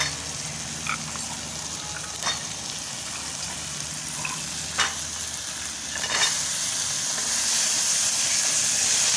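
Small fresh desi green chickpeas sauté in oil with browned garlic: a continuous hissing sizzle broken by occasional stirring scrapes, growing slightly louder toward the end, with no one speaking.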